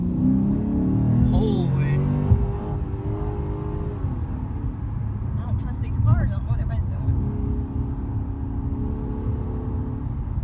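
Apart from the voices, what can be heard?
Lexus RC-F engine revving while accelerating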